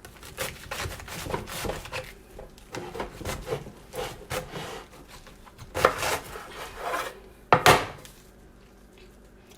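A knife slices cabbage on a cutting board in a home kitchen, giving a series of crisp, close chopping and crunching strokes at an uneven pace with a few sharper knocks against the board.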